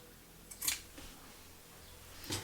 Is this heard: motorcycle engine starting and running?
no